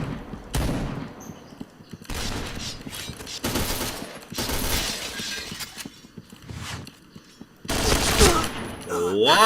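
Gunfire in the PointBlank online shooter game: repeated bursts of automatic fire and sharp shattering impacts come in loud clusters separated by brief pauses.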